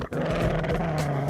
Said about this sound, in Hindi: अरे ये डोडो क्यों भौंक रहा है?